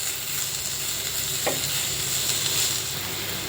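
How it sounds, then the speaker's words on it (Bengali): Rice frying with green chillies in a pot for rajma pulao, giving a dense, even hiss of sizzling oil that stays constant throughout, with one faint tap partway through and no voices. "একটু সুন্দর করে এটা চালটা ভেজে নিতে হবে"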